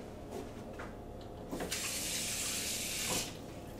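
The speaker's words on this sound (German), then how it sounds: "Machen jetzt unser Wasser rein." Tap water gushes into a cooking pot in a home kitchen as blue sausages are prepared, a steady rushing stream that starts midway and runs for about two seconds before stopping, with no talk over it.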